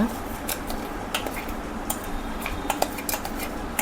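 A spoon scrapes and clinks in a bowl of ground roasted sesame with a little water, making light irregular taps and scraping over a quiet background.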